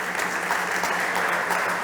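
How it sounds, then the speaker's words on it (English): Startup competition audience applauding the judges on stage, a dense, even roar of clapping throughout the short stretch, loud and steady with no speech over it. "Big applause to our judges."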